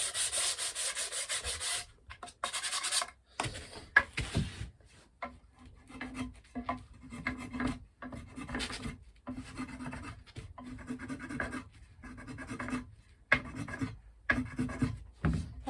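Sanding a guitar neck by hand, a steady rhythmic rubbing and scratching of abrasive on wood in repeated strokes with short pauses, close and moderately loud, no talking.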